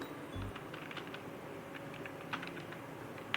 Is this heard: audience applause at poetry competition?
no